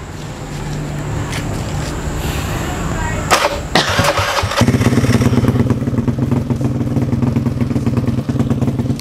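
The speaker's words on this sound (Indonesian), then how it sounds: "Hidupin dulu nih suaranya." A Beat 150 grasstrack racing scooter engine fires up with a clatter and settles into a loud, throaty idle from a CLD racing exhaust, close by and continuous.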